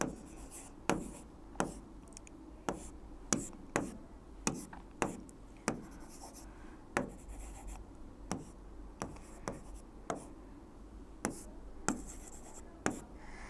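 A pen or marker tapping and stroking by hand while a chemical structure is drawn during a chemistry lesson, with sharp, quiet ticks at an irregular, unhurried pace over a faint background, and no talking.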